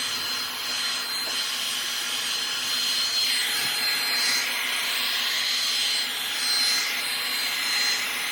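Steady, continuous whoosh of a hair dryer blowing air over a handmade patriotic heart sign decorated with tissue paper, loud and close, with slight shifts in tone as the dryer moves.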